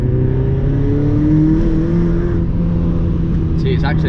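A Mazda MX5 engine holds a loud, steady drone as it slides through a corner on the road, heard from inside with the pitch rising slightly, then a brief squeal near the end.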